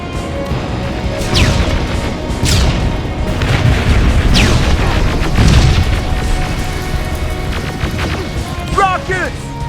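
Heavy rocket blasts in the Terminator Resistance shooter, several loud booming impacts rolling out over a dense battle din, with voices talking through the chaos.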